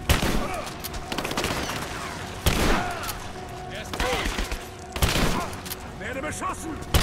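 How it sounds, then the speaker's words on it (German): Rapid gunfire in Rise of the Tomb Raider, several loud bursts of automatic shots arriving in waves a couple of seconds apart, close and sharp, with someone talking over the shooting. "Werde beschossen."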